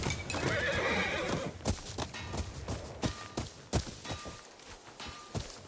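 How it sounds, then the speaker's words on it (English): A horse in the video game Ghost of Yotei whinnies loudly at first, then its hooves clop in an uneven run of sharp, close knocks. "horse manure"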